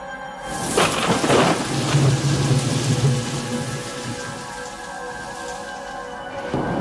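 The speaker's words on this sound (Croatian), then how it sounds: "s kojih grme gromovi i sjevaju munje" A thunderstorm on Mount Olympus in Greece: a loud, deep roll of thunder rumbles over steady close rain for several seconds, then fades beneath the continuing rainfall.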